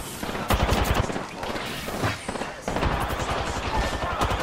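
Rapid automatic gunfire in a video game shooter crackles in loud, dense bursts with a short break in the middle, continuous and close.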